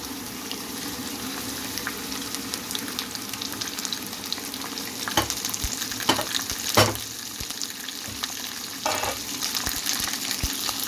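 A whole fish sizzles steadily in hot oil in a home kitchen pan, a continuous frying hiss with a few sharper pops and spatters, close and fairly loud with no talking.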